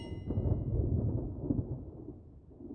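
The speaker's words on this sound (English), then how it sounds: "A storm's coming, Meloditties" Cartoon thunder from an approaching storm, a deep rolling rumble that swells then slowly fades, preceded by a brief high chime at the start, with no talk.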